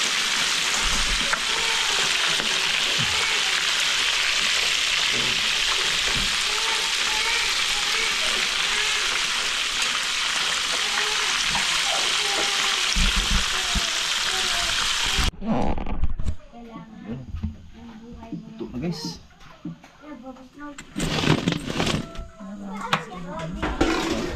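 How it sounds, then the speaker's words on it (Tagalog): Fish sizzles and crackles loudly in hot oil for a long stretch, then the frying quiets as clattering utensils and people talking take over. "prito ng isda"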